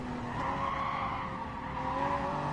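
Tires squeal steadily under braking as a car slows into a corner in Gran Turismo Sport, a continuous screech layered over engine noise, loud and close for the whole stretch.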